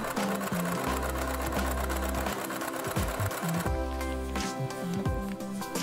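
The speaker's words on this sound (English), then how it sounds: "tried stitching on thin fabric" A sewing machine stitches thin fabric using thick thread, its steady motor whir and rapid needle chatter running loud and close, with a couple of short pauses and speed changes along the way.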